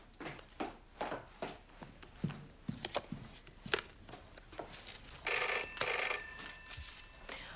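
A telephone rings in an indoor room, its bright tone starting late and sounding steadily for about two seconds near the end, after a series of soft thumps and clatters like footsteps or handling.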